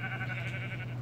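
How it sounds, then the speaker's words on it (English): A single sheep bleats in the video game Minecraft, a wavering, nasal cry that holds for about a second over a steady low hum, quiet and alone. "Yeah, I found a sheep."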